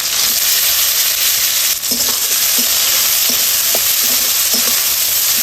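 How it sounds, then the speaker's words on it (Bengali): Onions fried in oil in a home kitchen pan, cooking a Bengali green-chili pork dish: a steady loud sizzle with occasional scraping stirs, no voices. "পেঁয়াজটা দিয়ে দিলাম। পেঁয়াজটাকে ভেজে নেব।"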